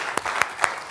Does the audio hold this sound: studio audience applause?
yes